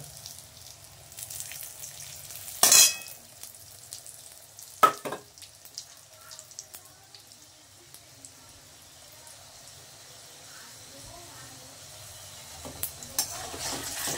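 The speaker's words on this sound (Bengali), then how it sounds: "আমি পরোটাটা এবার ভাজবো। একটু সাদা তেল দিয়ে দেব।" A potato paratha frying in white oil on a pan, giving a low, steady sizzle broken by a few sharp clanks of utensils and some scraping.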